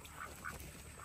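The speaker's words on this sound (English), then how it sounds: "We got the geese, they're playing in their water." Geese playing in their water trough on a farm give a few faint, short honking calls, spaced apart over a quiet background.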